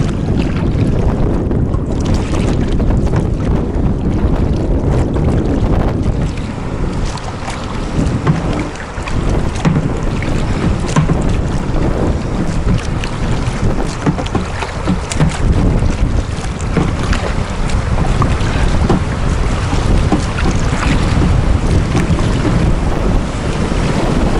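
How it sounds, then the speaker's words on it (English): Rushing river rapids roar steadily throughout, mixed with heavy wind buffeting the microphone, as a kayak moves through turbulent river water. "we're coming to the rapids here. If you can hear them, they're coming up on us."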